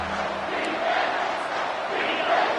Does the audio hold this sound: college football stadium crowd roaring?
yes